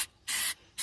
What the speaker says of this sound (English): Okay, at least this stuff sprays